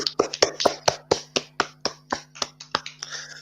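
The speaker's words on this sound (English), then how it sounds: "Let's give him all a round of applause" A small handful of people clap for Roman Reigns at a mock wrestling awards show, a steady run of sharp, close claps that thins out toward the end.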